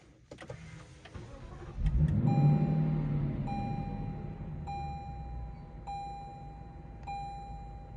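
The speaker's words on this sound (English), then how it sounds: "Let's go ahead and start the vehicle." A 2023 Lexus LC500 engine cranks and catches with a deep surge, settling into a steady low idle rumble close by, while repeated bright cabin chimes sound on top.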